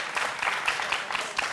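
A studio audience on a Turkish television show applauds, a dense patter of clapping hands at moderate volume, continuous with no voices over it.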